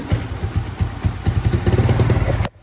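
Kawasaki Mojave 110 motorcycle engine catching and running for a couple of seconds, a quick chugging idle with rhythmic pulses that builds slightly, close and loud, then cuts off abruptly.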